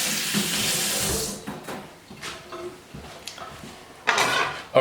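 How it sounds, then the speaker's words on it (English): Water runs from a kitchen tap while hands are washed, a steady broadband rush at the start that thins out into scattered splashes, then swells loudly again near the end. "I wash my hand, just one sec."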